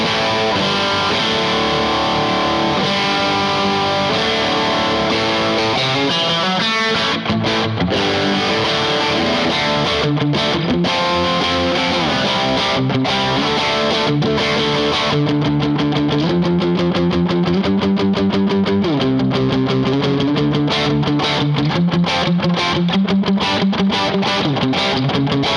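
Heavily distorted riffs and chords from a Mensinger Maverick Custom Shop electric guitar played through a Laney amp, loud and continuous throughout, with no talking.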